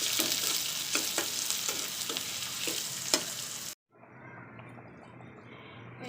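Chopped onion, garlic and dried chili sizzle in hot soybean oil while being stirred, a bright crackling fry with spoon scrapes. It cuts out abruptly partway, then a quieter, softer sizzle continues.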